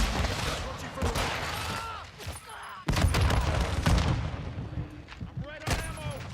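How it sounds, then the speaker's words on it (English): A stun grenade goes off in a first-person shooter video game, sharp bursts and booming thumps mixed with surrounding gunfire, loud and close, while a player talks over the action. "Throwing a stun grenade"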